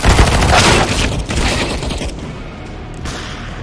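A grenade detonates in Counter-Strike: Condition Zero, opening with a loud burst and a rumbling blast that fades into a quieter, lingering tail over a few seconds.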